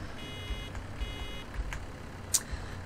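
Baler warning beeps in Farming Simulator 17, a short series of faint, evenly spaced electronic tones over a low steady machine hum, with a brief sharp click near the end.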